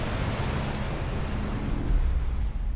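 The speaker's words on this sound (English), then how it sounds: "But the storm was too violent, and he very quickly disappeared under the waves." Storm waves crash and surge in a steady, roaring wash of broadband noise that swells slightly near the end, with wind-like rumble underneath and no voices.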